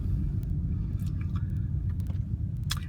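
A 1999 Mercedes-Benz CLK320 Cabriolet with a six-cylinder engine cruises down the road, a steady low rumble of engine and tyres heard from inside, quiet and even, with faint small clicks and rattles.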